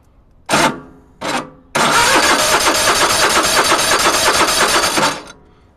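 Troy-Bilt Massey Ferguson race tractor engine cold started on full choke: two short cranking attempts, then it catches and runs loudly and steadily for about three seconds before cutting off.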